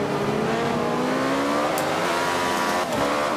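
Sports car engine from the Forza 5 racing game revs hard and accelerates, a loud continuous roar with steadily rising pitch, briefly dipping near the end before climbing again.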